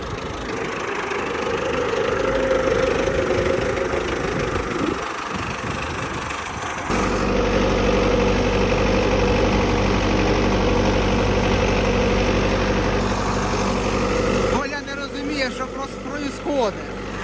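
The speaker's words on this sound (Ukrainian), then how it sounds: "Він сидить, а трактор їде, рулює сам." An MTZ-82 tractor engine idles steadily while the tractor drives and steers itself, a low, continuous rumble with a shift in tone partway through, under people talking.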